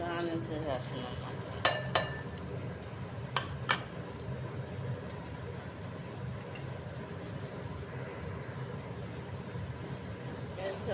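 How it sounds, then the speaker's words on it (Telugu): Chopped onions dropped into hot oil for a tomato curry give a steady low sizzle and crackle, with a few sharp clinks of a utensil against the pan early on, heard close without speech. "ఆనియన్స్ వేసేస్తున్నాను అనమాట"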